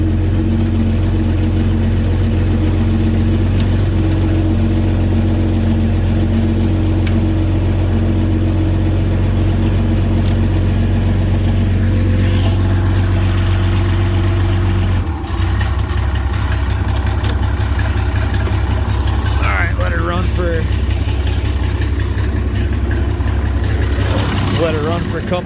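An IH 686 tractor engine runs after a PTO assembly swap, a loud steady diesel idle with deep low rumble that shifts tone partway through and settles into a rougher drone.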